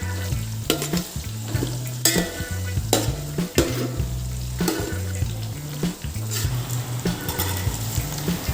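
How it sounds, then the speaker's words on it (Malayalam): Chopped shallots and green chillies sautéing on a slow flame for a Kerala beef fry, a loud continuous sizzle with frequent rhythmic scraping stirs of a spoon in the pan, close and without talk. "ചെറിയുള്ളി അരിഞ്ഞതും പച്ചമുളകും കൂടി ചേർത്ത് സ്ലോ ഫ്ലെയിമിൽ ഫസ്റ്റ് ഒന്ന് വഴറ്റിയെടുക്കാം"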